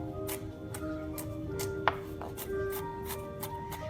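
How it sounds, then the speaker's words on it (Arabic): A knife finely chops onion on a board, giving rapid, evenly spaced crisp taps, close and moderately loud, with a faint background hum. "طبعا هلا البصل انا هذا عندي فرمته كبيره، بس انا حفرمه فرمه صغيره."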